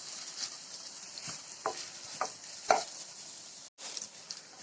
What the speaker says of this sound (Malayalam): ഇതൊന്ന് നന്നായിട്ട് വഴന്ന് വരട്ടെ നമുക്കൊരു പത്ത് പതിനഞ്ച് മിനിറ്റ് ഇങ്ങനെ ഇളക്കി കൊടുത്ത് നന്നായിട്ട് ഇത് വഴട്ടിയെടുക്കാം